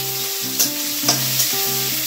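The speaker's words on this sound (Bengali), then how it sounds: "পুরোটা নাড়াচাড়া করছি" Onion and a little tomato being stirred as they fry in a pan, a close sizzle broken by three brief scrapes of the spoon against the pan.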